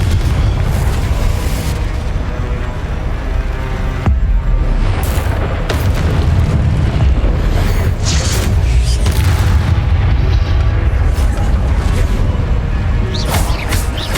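Repeated deep booming blasts from the Confringo fire spell in the video game Hogwarts Legacy, loud and continuous with rumbling explosions and bursts layered over one another across the whole stretch.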